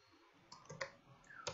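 A few sharp computer mouse clicks spaced irregularly across a short, quiet stretch, crisp and close with faint room noise between them.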